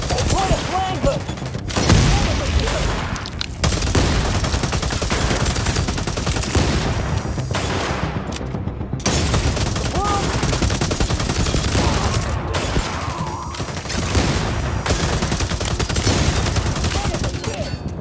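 Sustained gunfire from a firefight in The Division: Resurgence, dense overlapping volleys of shots running almost without pause, loud and close, with combat voices shouting over the shooting.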